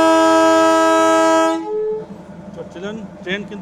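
A toy train hauled by an NDM 608 diesel locomotive sounds a long, loud, steady horn blast as it departs, then the horn cuts off and chugging, rumbling movement follows with faint voices around.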